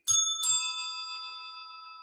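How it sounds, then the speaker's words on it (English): Two quick strikes on small bells, each ringing out in a bright metallic tone that lingers and slowly decays, close and alone with no talk. "All right, I got 2 bells now."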